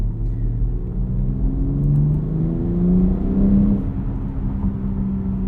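A 2022 BMW X3 M Competition SUV engine revs up with a deep, throaty sport-exhaust rumble, pitch climbing through the 8-speed automatic's gears in rising steps, loud and close.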